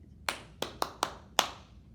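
Bare hands clap out the five opening beats of the shave-and-a-haircut rhythm: crisp, close and alone, with a short gap, three quick even claps, then a final accented clap.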